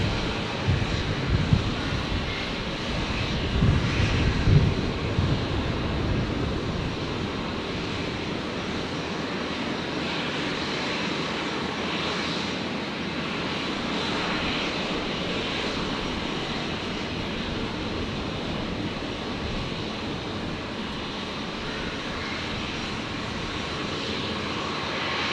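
A Jetstar airliner taxiing toward its parking bay at Brisbane Airport gives off a steady, broad engine drone at moderate distance, holding level for the whole stretch with a brief louder swell near the start.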